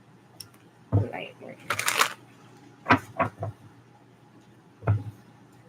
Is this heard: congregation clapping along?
no